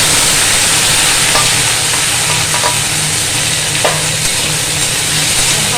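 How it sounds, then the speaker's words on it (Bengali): Chopped watermelon rind and potatoes sauté in hot oil with already-fried onions, giving a loud, steady close-up sizzle with a few faint clinks of stirring and no talking. "ভালো করে কষাবো"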